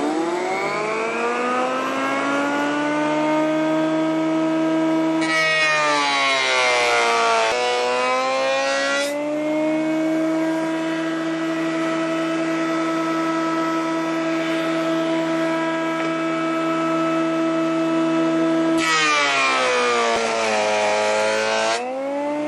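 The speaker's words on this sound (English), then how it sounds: "Always use these to keep your fingers away from the spinning blade." Power saw blade cutting wood for an electric guitar neck, a loud steady whining drone that rises and falls as the cut bites, with two rougher, noisier cutting passes, alone without talk.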